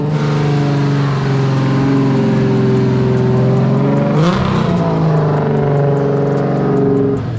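A drift car engine revs hard and holds high, a loud, close, continuous droning growl with a pitch dip and recovery midway, sounding alone.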